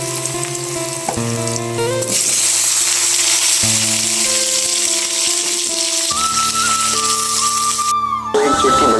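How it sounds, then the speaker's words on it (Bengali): Potatoes fry in hot oil, giving a loud, continuous sizzle and crackle close by, with melodic background music playing underneath throughout. "এবার আমি আলুগুলোকে ভেজে তুলে রাখবো"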